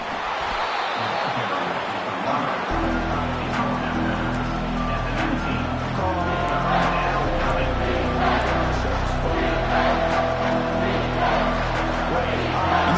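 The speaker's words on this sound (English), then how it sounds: "the crowd coming to life here, trying to help this defense down in the red zone" A stadium crowd at a college football game swells into loud, sustained cheering and roaring during a red-zone defensive stand, with a commentator's voice running over the din throughout.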